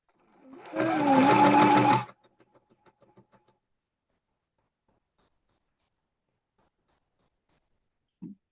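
A sewing machine stitches quilt block seams in one loud, steady burst of about a second, then slows to a few separate ticks before falling silent, with a faint thump near the end.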